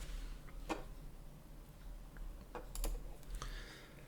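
A few scattered keyboard key presses click sharply and irregularly over a faint background hum, with quiet gaps between taps.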